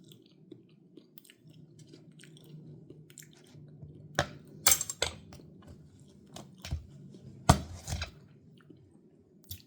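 Someone eats a taste of homemade avocado sandwich filling mixed with lemon and salt, giving soft close-up chewing and squishy mouth sounds with a few sharper crunchy bites, all quiet and without talk.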